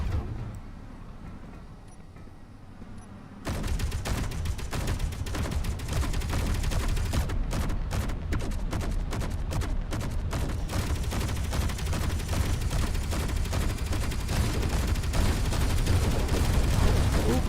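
Sustained weapon fire from ship guns in Space Engineers, a dense rattling barrage that starts abruptly after a quieter stretch and continues loud and steady, with rapid repeated shots through the rest.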